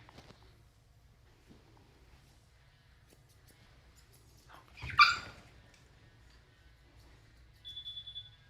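A dog at a grooming session barks at the mailman in one short, sharp burst midway through an otherwise quiet stretch, fairly close.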